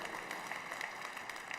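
Convention audience applauding in a steady, dense patter of many hands, fairly faint and distant throughout.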